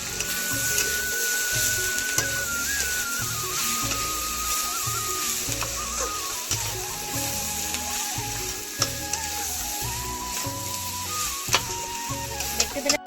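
Egg noodles with freshly ground black pepper stirred in a frying pan: steady loud sizzling with repeated scraping and clacking of a utensil against the pan throughout, no voices.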